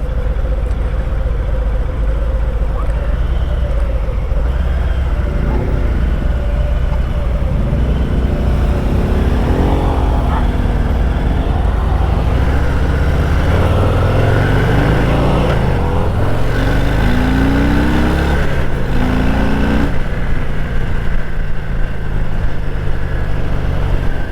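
Harley-Davidson Heritage Classic 114 engine and exhaust heard while riding, a steady deep rumble with wind noise and rising pitch sweeps as it accelerates through gears, continuous and close with no talk.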